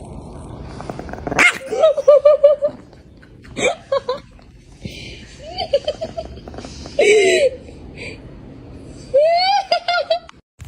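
A dog close by gives several short, separate barks and yelping, hiccup-like vocal bursts, spaced out with quiet pauses between them.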